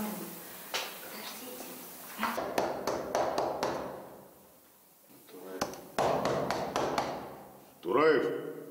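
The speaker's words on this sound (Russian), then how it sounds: "В закрытые двери стучалась и наша съемочная группа" Someone knocks on a closed door in two bursts of rapid, sharp raps separated by a quieter pause, close and distinct, followed by a brief rattling sound at the end.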